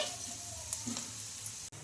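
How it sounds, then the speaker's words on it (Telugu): White sesame seeds crackle in hot oil for a tempering, a steady low sizzle with faint pops, fairly quiet and close, cutting out briefly near the end. "ఈ నువ్వులు కూడా చిటపడమన్న తర్వాత అయితే ఇంకా స్టవ్ అయితే ఆఫ్ చేసుకోవాలండి"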